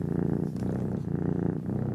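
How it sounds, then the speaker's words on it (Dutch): A domestic cat purring steadily and up close, a continuous low rumbling throb with even breathing cycles, heard alone for about two seconds with no talking. "Dit is gewoon een kat. Die aan het spinnen is."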